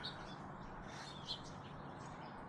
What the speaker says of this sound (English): I just wanted to show you the beautiful birds